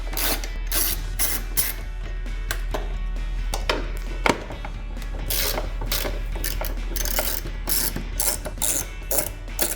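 Rapid clicking ratchet backs out two 7mm bolts holding a 2019-2024 Chevrolet Camaro tail light, bursts of pawl ticks repeating with short pauses, close and steady.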